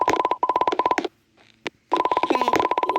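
Telephone dialing tones come as fast, evenly pulsed beeps in two loud bursts, separated by a near-silent gap with one brief click.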